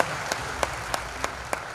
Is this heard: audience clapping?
yes